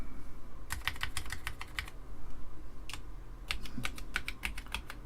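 Keys tapped one by one on an Amiga 500 keyboard under test, bursts of crisp clicks in quick rows with short pauses between, close and clear.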